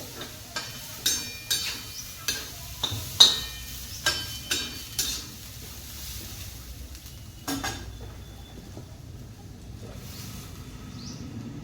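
A spoon stirs and scrapes moong and spices in a pan over a low gas flame, with a steady run of about ten regular clinks and scrapes followed by softer stirring and a faint sizzle, close and fairly quiet.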